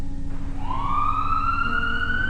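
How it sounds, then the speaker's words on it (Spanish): A police car siren rises in pitch and holds a loud, steady wail, heard nearby and alone with no talking. "el sonido de una sirena cortó la tensión"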